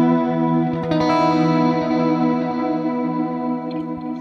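An electric guitar played clean through a Valeton GP-200 multi-effects pedal on an ambient delay preset rings out in sustained chords with a shimmering chorus-like wash and a lingering echo tail, alone with no voice.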